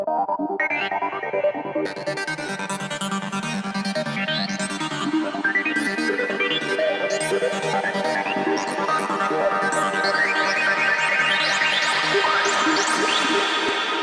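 A psytrance build-up loop made in Ableton repeats ever faster, chopped into 8th notes, and rising swept tones stack higher and louder above a dense, steady synth bed.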